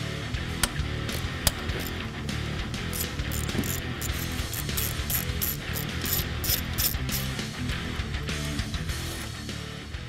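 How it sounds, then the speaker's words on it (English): A ratchet backs out the fuel rail retaining bolts on a 2011-2014 Mustang GT, a fast, steady clicking that runs the whole time at moderate volume with no talk. "Now we'll remove the retaining bolts for the fuel rails."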